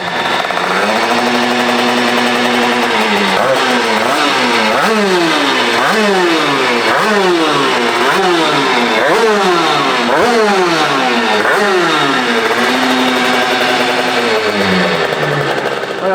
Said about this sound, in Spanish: ahora que ya habéis disfrutado un poquito del sonido de la moto de Adrián